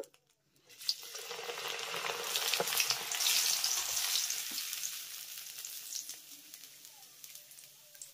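Raw rice grains fry in hot oil over lowered gas heat, a dense, bright sizzle swelling quickly after a short quiet start and holding steady, then easing slightly toward the end, close and alone.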